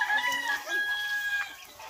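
Chickens cluck and crow inside a roomy coop, a close, busy chorus of overlapping clucks and calls that fades a little toward the end.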